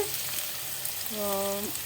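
Potato pieces frying in a pan, giving a steady close sizzle throughout, with a brief voice sounding faintly over it near the end.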